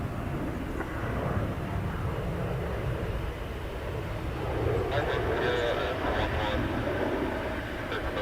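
A steady broad rumble comes from a 17-year-old Eurowings airliner from Dusseldorf at Dublin Airport during reverse operations on runway 10R, heard at a distance with talking over it.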